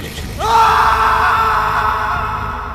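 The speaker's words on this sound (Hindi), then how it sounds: "फिर एक तेज चीख की आवाज आती है, इतनी तेज कि पूरे गेस्ट हाउस में गूंज गई" A loud, sustained scream erupts after a brief hush in a guest house and holds for over two seconds, ringing with a slight echo as it slowly fades.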